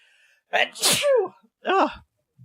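A loud, close sneeze bursts out after a quick intake of breath, followed by a second shorter sneeze-like burst.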